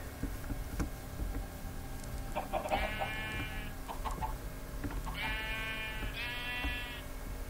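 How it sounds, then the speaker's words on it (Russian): Faint chicken clucking calls in Minecraft come in a few short bursts over a steady background murmur, sounding somewhat distant. "Смотрите, курицы очень много,"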